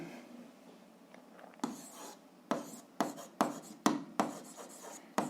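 A pen writes on paper during an algebra lesson, scratching in a series of sharp, rhythmic strokes that grow more frequent, close and fairly quiet with no voice.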